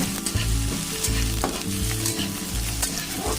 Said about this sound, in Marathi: कांदा भाजत असताना हे थोडंसं मीठ टाकायचं म्हणजे कांदा पटकन भाजला जातो